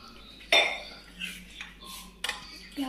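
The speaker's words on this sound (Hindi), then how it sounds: "अभी मेरा बर्तन साफ़ करने का टाइम आ चुका है मेरे बहुत सारे बर्तन हो रखे हैं सारे बर्तन साफ़ करने हैं" Dishes and pots clinking while being washed in a home kitchen: a loud metallic clank, then several lighter clinks and knocks scattered irregularly, close by with no talk.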